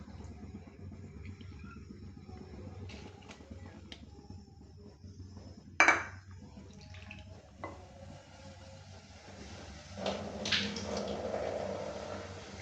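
Washed red lentils (masoor dal) going into a kadai for a dal-and-greens dish: a short wet clatter midway, then a louder squishy, splashing tumble of damp grains near the end, with no talking.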